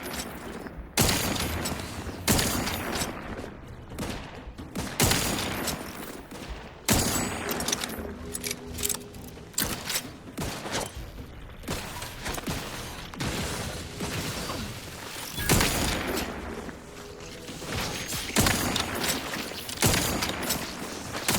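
Gunfire in The Outer Worlds 2, repeated bursts and single shots scattered across the stretch, with mechanical clatter between them.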